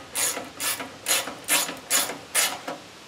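Six quick ratcheting bursts from a ratchet wrench loosening a big bolt on a Jerr-Dan aluminum tow truck bed, the clicks evenly spaced and close, with no talk.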